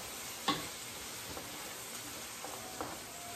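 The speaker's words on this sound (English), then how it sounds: "let's fry these onions up" Onions frying in a pan for vegetable beef soup, a soft steady sizzle with a sharp clatter near the start and a few faint knocks later, no voices.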